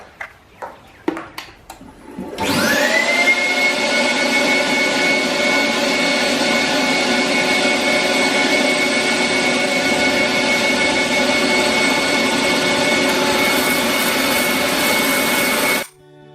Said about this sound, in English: I'm just going to turn a tenon on the end here, just so I can mount this in the chuck.